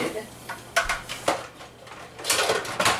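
A metal pot lid handled and set onto a cooking pot, with several sharp clinks and scrapes of metal on metal followed by a rattling clatter as it seats, close and fairly clear.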